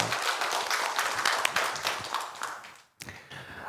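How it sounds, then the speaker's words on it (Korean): Dense applause from a large church congregation fills the room, briefly dropping to near silence before clapping resumes. "하나님께 영광의 박수 올려드리겠습니다."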